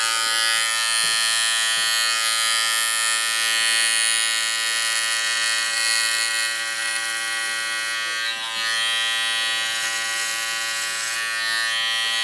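Electric hair clipper buzzing continuously while cutting hair alongside a comb, a loud, steady motor drone with strong harmonic hum that barely changes over about twelve seconds.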